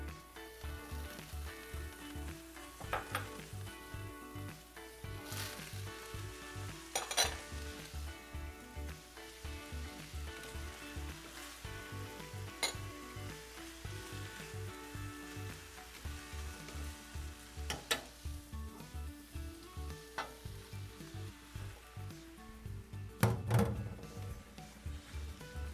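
Vegetables sizzle and crackle in a frying pan for a harvest chicken casserole, a steady low hiss with occasional louder pops and stirring clatter, close and moderately quiet, with no talk.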